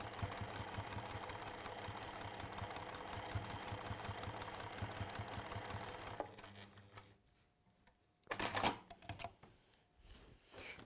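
A sewing machine runs a long basting stitch in a fast, even mechanical chatter for about six seconds, then stops, leaving quiet handling noises and a brief clunk.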